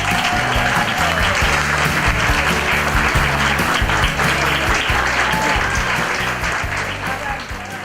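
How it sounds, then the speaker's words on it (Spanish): A festival audience gives Néstor Palmetti loud, sustained applause as dense clapping fills the room for several seconds, then tapers slightly at the end. A voice is faintly heard beneath it. "Un fuerte aplauso para Néstor Palmetti"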